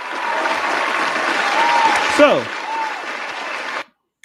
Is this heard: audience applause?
yes